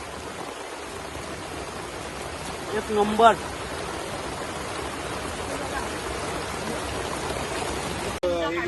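Light rain falls outdoors at a waterfall near Mahad, a steady, even hiss of water throughout; a voice speaks briefly in the middle.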